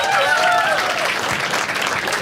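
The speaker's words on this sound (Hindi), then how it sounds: "एक बार इसके लिए ताली बजाओ सब लोग" An audience at a stand-up comedy show breaks into loud, dense applause, with cheers and whistles rising briefly over the steady clapping.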